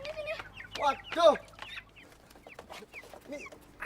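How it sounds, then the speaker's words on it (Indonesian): Chickens cluck in short repeated bursts close by, with a few sharper squawks in between. The sounds come at an uneven rhythm, and there is some low background noise. "Ayam siapa sih ini?"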